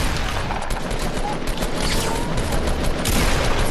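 Rapid, dense gunfire from Fortnite crackles nonstop in a loud, chaotic burst.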